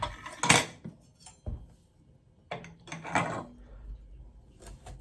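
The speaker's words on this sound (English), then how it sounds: "I'm going to just keep going with this, guys, until I've got it peeled" A knife works over a large butternut squash in a series of separate scraping strokes and clunks, several bursts spaced a second or so apart with quiet gaps between.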